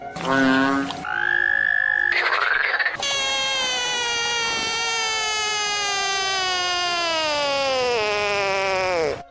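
A series of toad calls, loud and close: a short trilling burst, then a long sustained rising-and-falling trill that dominates the recording, with no talking.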